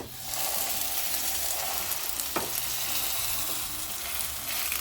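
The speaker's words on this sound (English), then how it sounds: "Now I'm going to sear it on medium heat" A pork roast sears in a hot pan over medium gas heat, giving a loud, steady, close sizzle and crackle throughout with one sharp scrape partway through.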